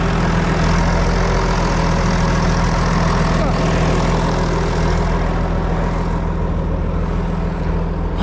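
A farm tractor's engine idles with a loud, steady, low rumble that runs unbroken and close by during a plowing job.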